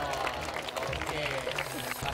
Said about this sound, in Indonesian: Tepuk tangan untuk Mas